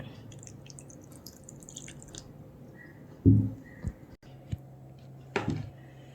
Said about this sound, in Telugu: కొంచెం వాటర్ యాడ్ చేస్తాను అంతే, కొంచెం.